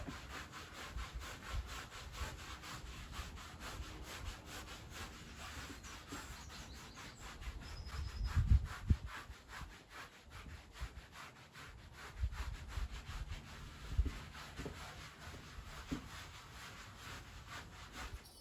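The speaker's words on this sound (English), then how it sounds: "first he gets a go with these, which are scratchy gloves" A horse is groomed with scratchy gloves, a faint continuous rasping rub of close strokes over its coat, with a few soft thumps of movement in the middle.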